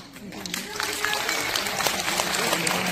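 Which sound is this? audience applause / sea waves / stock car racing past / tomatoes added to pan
audience applause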